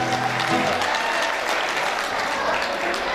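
Applause from a studio audience at a televised diaspora music show, steady dense clapping filling the whole stretch at close range, with no voices over it.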